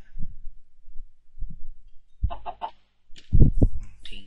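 Chickens in the video game Minecraft clucking in a few short bursts, a brief pair of low clucks followed by a louder cluster of rapid clucks near the end, with no talk over them.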